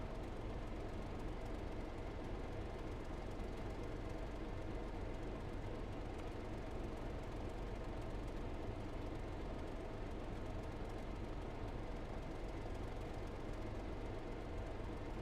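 Steady low rumble of a train running in Train Sim World 2, continuous and even throughout with no talk, the rolling drone holding at a constant moderate level.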